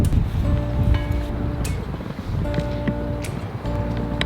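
Strong wind gusts at a beach near Dubrovnik buffet the microphone with a loud, steady roar, and faint tonal hum and scattered knocks sit under it; nobody speaks.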